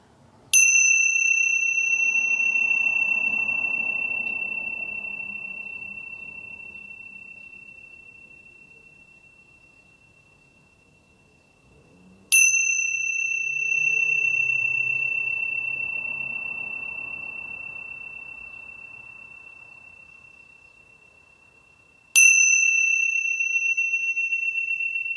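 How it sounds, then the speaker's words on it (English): A clear, bright bell is struck three times, each ring sustaining and slowly fading before the next strike, used to clear the energy in a quiet setting. "I'll clear the energy with a few rings of the bell."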